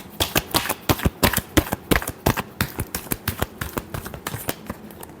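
Tarot cards are shuffled by hand in a series of quick crisp riffling bursts, close and fairly loud, in an uneven rhythm of short flurries with no talking.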